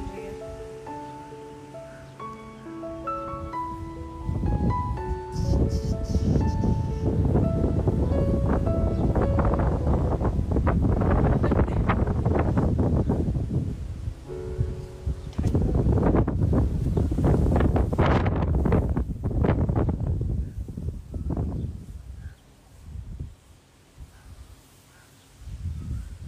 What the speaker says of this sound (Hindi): ज्यादा हवा चल रही है।